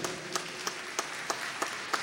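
Applause at a formal ceremony as medal honorees are named, a faint crowd clapping under sharp, evenly spaced louder claps about every third of a second standing out from the wash.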